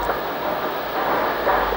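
A steady, rumbling roar from a train running on the Mold to Ruthin line near the summit, about 18 miles from Chester. The noise is close and continuous, with no voices.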